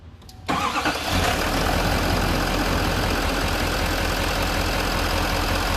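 A car's starter cranks briefly during a battery tester's cranking test, then the engine catches and settles into a steady, loud running idle.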